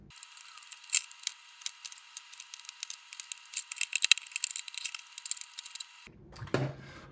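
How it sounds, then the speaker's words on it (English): A blade scraping and cutting a 3D-printed plastic part down to size, a dense run of close, crisp scratchy cuts and clicks lasting several seconds, ending with a brief handling knock. "So you're going to take a blade here and cut it down to size."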